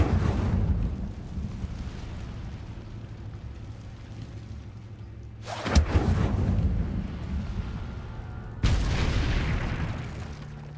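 Incendio fire spell cast in the Hogwarts Legacy video game: two loud whooshing fiery blasts bursting out over a low rumbling game ambience, the second arriving a few seconds after the first.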